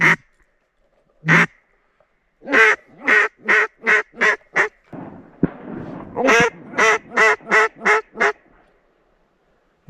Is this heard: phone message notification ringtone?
no